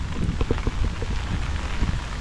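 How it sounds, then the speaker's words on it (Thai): Rain pouring in strong, cold wind outdoors in Kaohsiung, Taiwan, a steady loud hiss with scattered patters and drips across the whole stretch. "ฝน ลมมันค่อนข้างแรงนะครับ แล้วก็ ก็หนาวอยู่ครับฝนตก"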